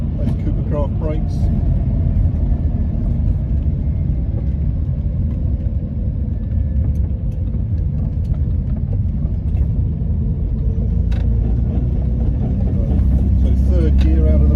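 A 1962 Jaguar Mark 2 3.4 with manual gearbox and overdrive drives out of a roundabout in third gear, its engine giving a steady, low rumble from inside the cabin, with faint clicks along the way.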